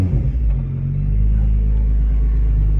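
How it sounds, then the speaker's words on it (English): A Nissan GT-R with a flashing check engine light starts up, its engine catching into a loud, steady, deep idle rumble that settles and holds close by, with no voices. "we're going to start the vehicle up"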